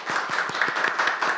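Audience applause at an academic symposium, a short burst of clapping from a modest crowd, fairly close and even, with no talk.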